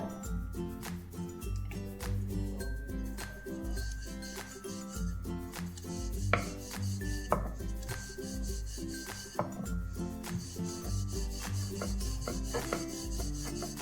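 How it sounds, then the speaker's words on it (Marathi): Masala lachha paratha dough is rolled out gently with a rolling pin on a board, making a soft, continuous rubbing and scraping over about fourteen seconds, with light clicks and background music. "खाली टक इन करून टाका आणि अगदी हलक्या हाताने लाटूया"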